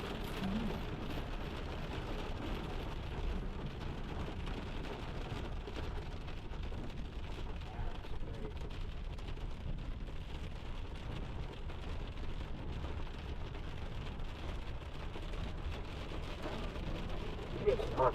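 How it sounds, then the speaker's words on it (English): Heavy storm rain in Yosemite pours steadily as a dense, continuous wash of noise over the whole stretch, with a faint murmur of voices underneath. "This rain came, man, on hiking trails"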